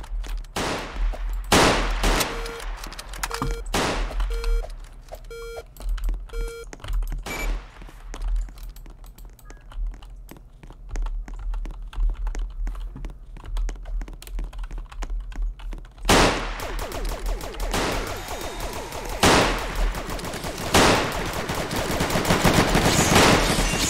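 Sniper and other gunfire in a Roblox video game: sharp, loud shots come in clusters and bursts with quieter stretches between, including a heavy barrage late on.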